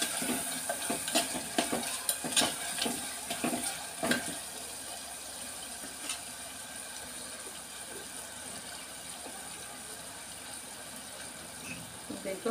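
A spoon works garam masala into a curry in a pan, giving scraping clinks and taps early on and then settling into a soft, continuous background hiss.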